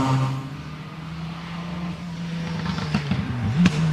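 A race car at the Goodwood Festival of Speed braking for the Molecomb corner, with a steady engine drone that stays fairly subdued, followed by rising revs and a sharp surge of acceleration near the end.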